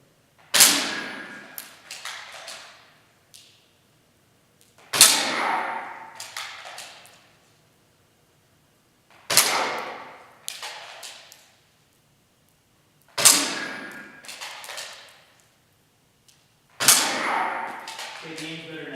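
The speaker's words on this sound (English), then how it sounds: "I'm going to stick back to the Nerf guns" Nerf guns fire at a practice target system in five separate bursts. Each burst has a sharp pop followed by a few quick light thumps, with quiet gaps between the rounds.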